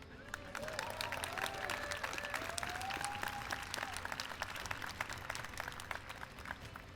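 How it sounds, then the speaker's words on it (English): Audience applause at an ependymoma awareness day speech, a sustained round of clapping from a crowd, fairly faint and even throughout, with a voice faintly underneath. "That was a great round of applause."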